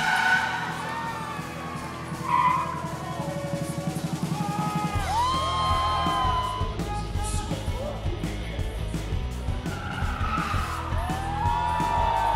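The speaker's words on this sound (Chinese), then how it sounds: "今次新加坡車展咧都邀請咗阿 Russ 過嚟做呢個叫漂移嘅表演嘅。" A car performs a drifting display at the Singapore motor show, with tyres screeching and the engine whining and revving in loud, sustained bursts that rise and fall across the whole stretch.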